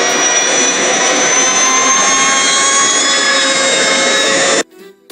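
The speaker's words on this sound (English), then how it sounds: "The sound of a scooter echoed through the narrow street, growing louder with every heartbeat." A scooter engine in a narrow street gives a loud, steady high-pitched whine that holds for several seconds, then cuts off abruptly near the end.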